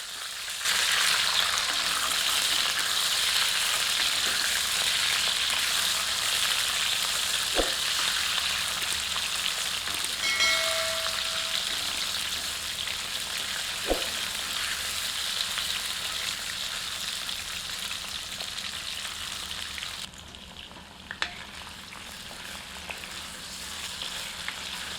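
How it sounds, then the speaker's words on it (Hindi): Chicken sizzles lightly in a pan for spicy Saoji masala chicken, a continuous moderate frying hiss with a couple of brief clicks and a short tonal squeak midway, easing quieter toward the end. "अब चिकन को हमें हल्का फ्राई करना है।"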